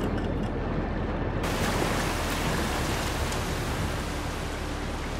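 Water pours down in the Far Cry New Dawn video game as a steady, dense rushing hiss, loud and continuous with no voices over it.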